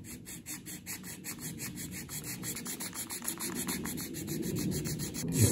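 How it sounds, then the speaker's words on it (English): Rhythmic rubbing strokes of a soft sanding pad on the funnel of a 1/200 scale model of the IJN Mikasa battleship, close and steady, growing slightly louder toward the end. "So we can go into the soft sanders now, and that's the form around the curves."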